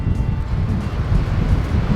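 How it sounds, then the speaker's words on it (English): Strong wind buffets the microphone on an outdoor hike, a loud, continuous low roar with gusty rumbling and no voices. "it is really windy now. The wind has really picked up,"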